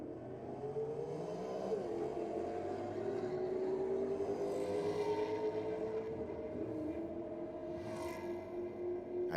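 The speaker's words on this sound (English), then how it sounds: "the BMW taking on the HSV down there in the rocket lane" A BMW and an HSV drag racing down the strip, their engines a distant, sustained roar that rises steadily in pitch as they accelerate, fairly faint with crowd ambience behind.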